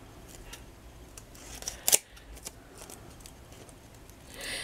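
A pair of scissors snips once through a stiffened fabric leaf, a single crisp cut close by against quiet handling noise.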